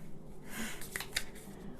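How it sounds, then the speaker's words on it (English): A deck of playing cards is shuffled at close range, quietly, giving soft riffling rustles and a few sharp clicking flutters. "I'm going to put this joker in, and I'm going to shuffle"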